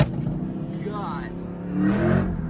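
A Feral ADZ car revs past, its engine note swelling and then fading over a couple of seconds while someone talks over it.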